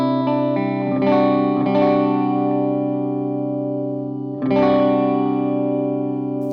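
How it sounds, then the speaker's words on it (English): Electric guitar played through a Line 6 POD Express with reverb: sustained chords ring out with a bright reverberant tail, struck again a few times, the wash decaying slowly between strums. "You can hear that there's a bit more separation between the reverb and the guitar"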